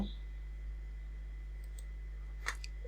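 A computer mouse gives a few faint, sharp clicks, one at the start and a small cluster near the end, over a steady low electrical hum.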